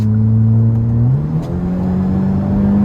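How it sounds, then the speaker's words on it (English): A car engine hums loudly and steadily, then its pitch shifts as the driver drops a gear in a built-up area, settling into a higher, sustained drone close to the listener with no talk. "But I will drop a gear and leave though."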